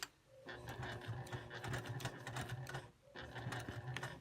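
A sewing machine stitches a quilted line through fabric with a walking foot, running in a steady rapid whir that stops briefly near the end and then starts again, fairly quiet and close.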